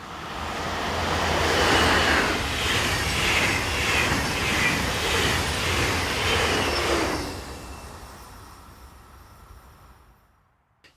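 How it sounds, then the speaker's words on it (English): Swiss Class 460 electric locomotive rushing past on a BLS line, a loud roaring whoosh building quickly, holding for several seconds and then fading fast into quiet. "we see this Class 460 as it rushes south"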